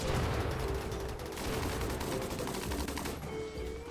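Turrets in the RimWorld video game fire rapid, rattling bursts of gunfire with mechanical clatter. The volley is loud and continuous, with brief pauses.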